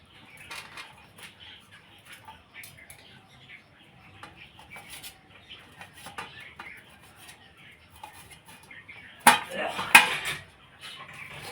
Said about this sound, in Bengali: আমি এগুলো একটু ছুরি দিয়ে টুকরো টুকরো করে কেটে নেব।